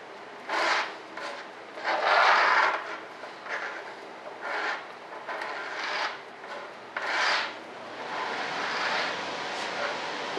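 Hand sanding on a model F-105 Thunderchief RC jet, rough rasping strokes in a steady back-and-forth rhythm, close and fairly loud, with no talk over it.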